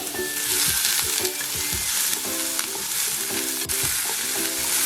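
Cucumber being mixed into a millet kadak rotti salad, a steady dense rustling and scraping of stirring that runs continuously and fairly loud throughout, with repeated soft rhythmic strokes and no talking.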